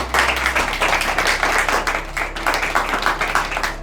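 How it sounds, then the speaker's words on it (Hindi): A radio quiz show audience claps steadily for the contestants, a dense, even round of applause that carries through to the end. "भरपूर तालियां होंगी सबके लिए।"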